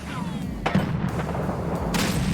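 A grenade goes off in a video game, a sharp blast followed by a rolling boom, with a second burst of noise near the end over a steady background rumble.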